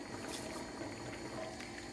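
Faint, steady bubbling of a menemen mixture of tomatoes and peppers simmering in an open pot, a soft continuous boil with small pops and no voices.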